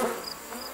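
A brief, close buzzing of bees, a steady droning hum without pauses.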